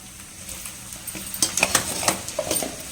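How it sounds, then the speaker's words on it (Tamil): Brinjal pieces fry in hot oil, with a steady close sizzle and crackle under sharp clinks of a utensil stirring in the pan, and no talking. "சில சிலன்னு பொரிக்க ஆரம்பிக்கும் தண்ணி இருக்குதுனால"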